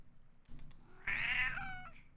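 Lucky, a pet cat, gives one clear, drawn-out meow close to the microphone after a few quieter rustles, the call rising and then trailing off.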